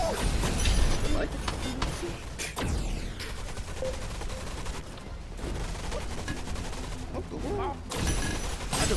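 Rapid bursts of gunfire from the VR shooter Gun Raiders crackle loudly and almost without pause, dense and close. A voice talks over the shooting.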